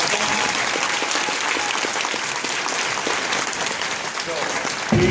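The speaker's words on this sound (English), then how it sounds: "so let's hear applause for that" Audience applause at a school winter concert with band, orchestra and choir: dense, steady clapping from a large crowd fills the whole stretch, swelling slightly at the very end.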